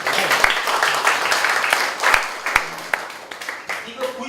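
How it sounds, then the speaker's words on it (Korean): An audience at a book lecture applauds the professor, a dense patter of clapping with a few sharper individual claps standing out and faint voices mixed in. "교수님 박수 한번"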